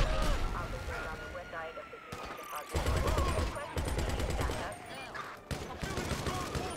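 Rapid gunfire from the video game GTA 5 crackles in dense, loud volleys with brief gaps, layered over a chaotic modded game soundtrack and a voice talking.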